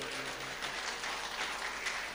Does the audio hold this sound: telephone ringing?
no